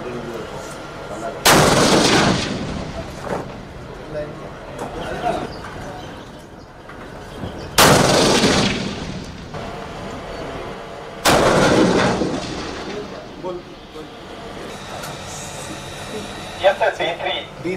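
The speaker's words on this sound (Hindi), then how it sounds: "तो लाइट टैंक जोरावर का ये सफल परीक्षण आप देख रहे हैं।" Zorawar light tank fires during a test, three loud booming blasts spaced several seconds apart, each with a long rumbling tail. Lower-level background noise fills the gaps, and a final smaller burst comes near the end.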